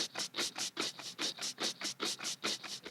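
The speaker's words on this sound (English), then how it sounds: "I combined the sound of me strumming the strings, putting the microphone against my beard, and then my mouth doing a kind of sound" Synthetic hi-hat built from strummed strings, a microphone rubbed against a beard and mouth noise, giving a quiet, breathy scratching hiss that pulses in a fast, even rhythm like a closed hi-hat.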